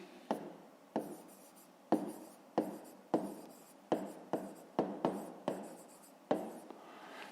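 Pen writing in a notebook during a fifth-grade maths exercise, a close, quiet series of about a dozen short scratchy strokes with small taps at their starts, irregularly spaced, with no talking.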